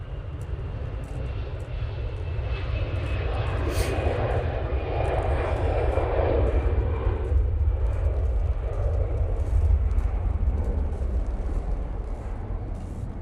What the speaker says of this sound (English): It's a Ryanair coming in.